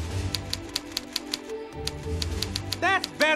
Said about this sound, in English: It has the sound effect of a typewriter.